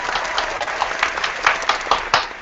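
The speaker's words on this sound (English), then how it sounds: "let's give another round of applause to Michael and Carrie" An audience claps for a couple at the close of a live show, a brisk patter of hands with a few sharper claps standing out, fairly close and without talk.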